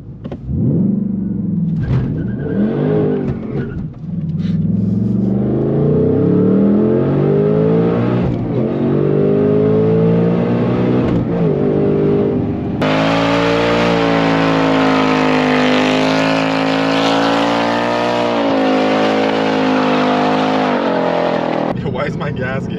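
A supercharged 2024 Ford Mustang Dark Horse with a Whipple Gen 6 Stage 2 blower revs and then launches hard under launch control, its engine note climbing loud and close with a rising supercharger whine through the pull.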